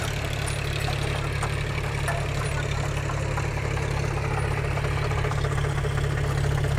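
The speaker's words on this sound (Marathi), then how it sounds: "आता या ट्रॅक्टरमध्ये ना 52 HPचं इंजिन आहे" A Sonalika Tiger 50 tractor with a 52 HP diesel engine idles loudly and steadily up close, a constant low chug with no break.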